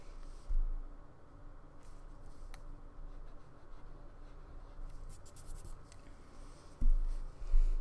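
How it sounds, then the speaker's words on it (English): Colored pencil drawing a circle on paper, a soft, steady scratching close by that runs without a break, with a couple of faint bumps and no talk. "drawing a circle around the outside of this."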